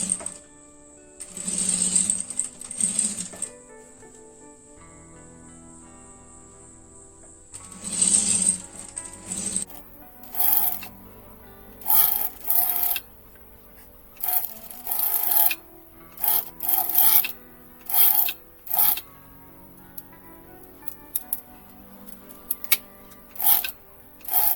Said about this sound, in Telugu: ఇలాగా ఇలా కుడుతున్నానండి, ఇలా కుట్టుకుంటూ వచ్చేయాలి.